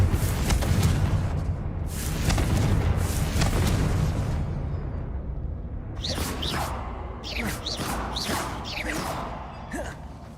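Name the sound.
Confringo blasting spell explosion from the video game Hogwarts Legacy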